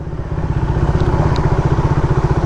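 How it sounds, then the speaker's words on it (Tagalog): A carbureted Suzuki Raider 150 motorcycle runs close by with a noisy, worn chain and sharp stock sprocket, its engine pulsing in a fast, even rhythm with rattling clatter layered over the beat. "Saka yung chain nya, ang ingay na, sobrang ingay na"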